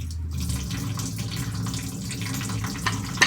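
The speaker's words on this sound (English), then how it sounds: "before returning the soap to the dish, we should rinse it to remove any microorganisms." Water runs steadily from a tap as a bar of soap is rinsed during a medical handwashing demonstration, a moderate continuous splashing hiss with small shifts in flow and a brief clatter near the end.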